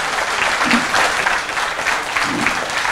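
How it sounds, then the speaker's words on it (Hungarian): Crowd at a fan convention panel on stage applauding, a continuous, loud spread of clapping hands with slight swells, sustained for about three seconds. "egy nagy tapsot kérünk"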